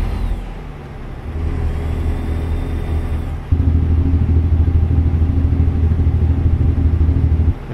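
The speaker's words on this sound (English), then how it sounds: "I realize I have 500 horsepower Cummins, but apparently the Cummins is in the back of the line as far as truck diesel engines go." Truck diesel engine, a 500 horsepower Cummins in American Truck Simulator, droning steadily with deep rumbling harmonics; the load and pitch rise partway through, then hold a louder, sustained growl with no talking.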